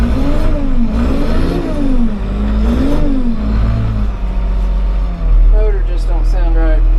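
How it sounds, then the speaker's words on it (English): A rough-running motor on heavy equipment bought at auction drones steadily nearby with a wavering, uneven pitch, while a person talks over it. "Motor just don't sound right."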